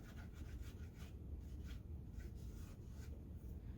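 Soft, faint rubbing of a finger working paint into a faux cactus, a gentle repeated scuffing in short strokes over a low background rumble, with no one talking.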